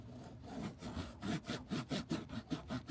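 A finger rubbing the rough, cheese-grater-like notched material of a Yeezy sneaker, close to the mic: a rapid series of scratchy rasping strokes, quiet and growing more rhythmic toward the end.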